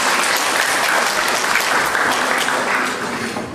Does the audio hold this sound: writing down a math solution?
no